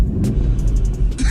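Volkswagen Golf R Mk7.5 idling with a deep, steady engine rumble, broken by repeated short hissing dump-valve bursts from its turbo, sharp and close, ending in a louder whoosh.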